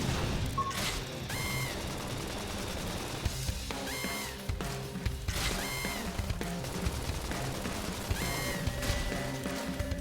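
A flame grenade attack in the Xenoblade Chronicles X video game, heard as dense rapid bursts of gunfire-like blasts and crashes with recurring whooshing surges over a busy battle mix, no talking.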